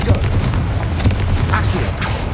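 Explosive blast of the Confringo spell in the Hogwarts Legacy video game, a loud booming burst with rumbling low end over dense game sound, with a brief sharper crack near the middle.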